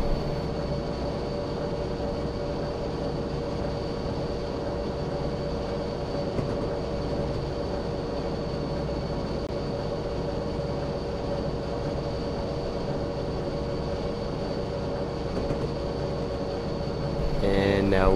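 A freight train rolling at about 45 miles per hour in Train Simulator 2021, giving a steady, even rumble of wheels and engine with a constant tonal hum, and a brief rise in noise at the very end.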